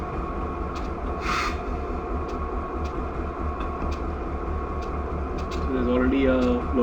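Norfolk Southern freight locomotives idling in Train Simulator, a steady low diesel rumble with a constant hum, and a voice speaking briefly near the end.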